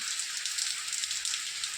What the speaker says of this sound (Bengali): পনেরো তারিখে বৃষ্টি এই বৃষ্টিটা একটু কমলো